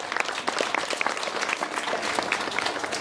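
A crowd claps warmly and steadily at a school graduation and year-end ceremony in a hall, a dense wash of many hands close by that holds at an even level throughout.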